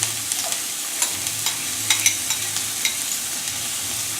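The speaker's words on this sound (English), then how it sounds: "Spoon of oil to a hot pan, and then we're gonna add our whole chopped onions." Whole chopped onions hit hot oil in a pan with a bright, constant sizzle, punctuated by regular light stirring clicks; no voices.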